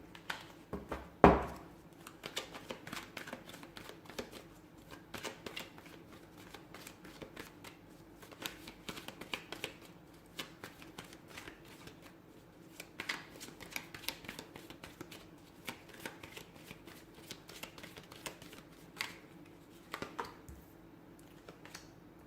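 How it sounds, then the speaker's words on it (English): Tarot cards are shuffled repeatedly up close, a soft riffling and tapping that continues in uneven bursts over a quiet background. "So let's go ahead and give the cards a shuffle and begin."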